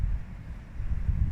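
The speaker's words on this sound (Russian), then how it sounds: "Ветер уже вижу сейчас немножко поутих" Outdoor wind buffets the microphone, a low rumbling gusty roar that swells and dips over a brief moment, with no talk.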